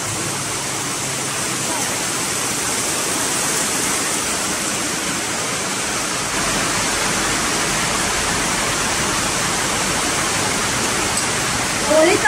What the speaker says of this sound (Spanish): Está fuerte el agua.